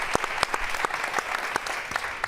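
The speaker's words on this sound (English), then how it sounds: "A round of applause for the 3 extraordinary women." Audience applause for three women honored at a FIFA Women's World Cup panel event, steady clapping throughout with sharper individual claps standing out, moderately close and continuous for a couple of seconds.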